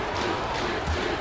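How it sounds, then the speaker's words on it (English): Crowd chanting a player's name in an arena during an NBA 2K League Finals esports game, a steady broadband roar of many voices carrying throughout without pause. "You can hear the chant of Feast in the crowd."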